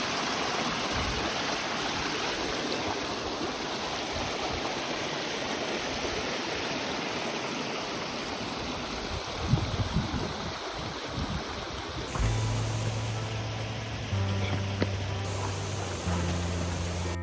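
Steady rushing water of a mountain stream tumbling over stones in its riverbed, Mount Olympus National Park, Greece, continuous and close, with a few faint knocks and tones near the end.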